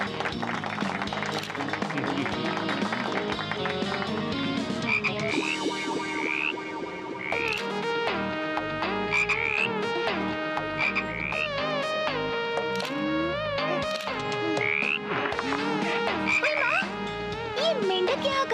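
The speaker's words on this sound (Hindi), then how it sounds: "ये मेंढक यहाँ कहाँ से आ गया?" A frog in a cartoon show croaks repeatedly in a loud, echoing, steady series of calls that carry on for the whole stretch without talk.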